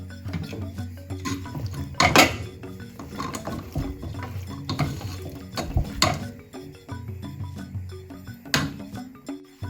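Food stirred in a pan over high heat, with irregular metallic clinks and scraping of a utensil against the pan over a low sizzle, close and moderately loud, no talk.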